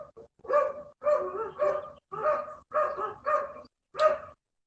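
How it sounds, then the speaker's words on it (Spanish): Dogs bark in a steady run of about seven sharp, close barks with short pauses between them, loud and alone without talk. "disculpen los perros ahí que se cuelan"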